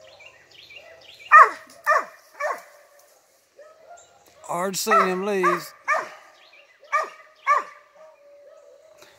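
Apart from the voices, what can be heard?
dog barking at a squirrel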